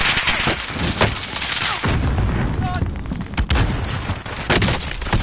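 A grenade blast and bursts of gunfire in a PS4 video game: repeated sharp cracks and heavy booms over dense battle noise, loud and close.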